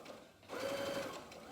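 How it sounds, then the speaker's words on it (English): A sewing machine stitches fabric for a quilt, a short burst of fast, even motor whir starting after a quiet moment, close and fairly soft. "Let's sew."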